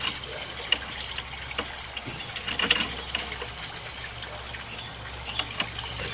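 Water runs through a sewer line at the city connection saddle, a soft steady trickling rush heard from inside the pipe, faint and continuous with a few small clunks.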